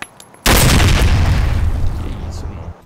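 A grenade explodes in the video game Escape from Tarkov, a sudden loud close boom after a quiet moment, followed by a long rumbling tail that slowly fades.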